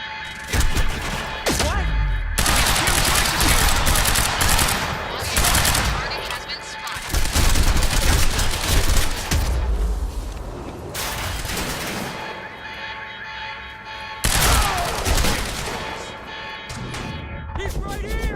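Heavy gunfire in the video game Quantum Break: long sustained bursts of automatic fire, loud and close, broken by short pauses, with shouted voices at times.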